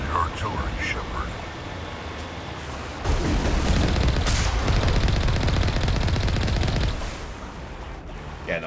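Artillery fire in the Mass Effect 1 video game: a dense, sustained roar of booming blasts and rapid gunfire builds midway and holds loud for several seconds, with game voices talking underneath.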